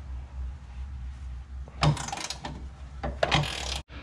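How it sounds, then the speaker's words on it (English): A breaker bar turns a 17 mm socket on a bolt at the top of a Honda Civic engine during timing belt and water pump work. It gives a few close, short creaking and ratcheting bursts over a low steady hum, then ends abruptly. "Breaker bar right here, and it's gonna go to the left."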